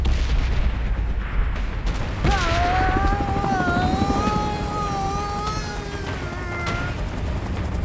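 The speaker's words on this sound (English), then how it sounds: "The technology of this aircraft is one of its kind." An aircraft in the PUBG Godzilla Kong vs Mechagodzilla trailer passes after a deep boom, its steady high engine whine holding for several seconds over a rumbling battle backdrop.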